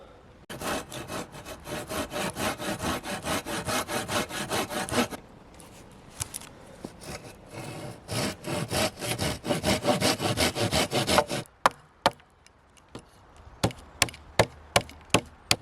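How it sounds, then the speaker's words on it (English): A hand saw cuts notches into wood at a woodland bushcraft camp, rhythmic rasping strokes in two long runs with a brief pause, followed by a handful of separate sharp knocks, close and clear. "I'll mark either side with the saw, put some slices into it, axe it out"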